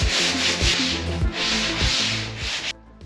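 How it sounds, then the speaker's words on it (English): A hand sanding block rubs back and forth over dried drywall mud on a garage wall, making a steady, close scraping rasp in a regular rhythm that cuts off abruptly near the end. "then I'm using the sanding block to go back in and do a lot of the more"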